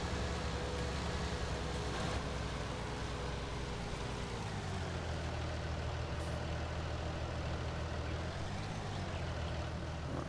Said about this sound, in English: We'll get our other tractor back out of the shed.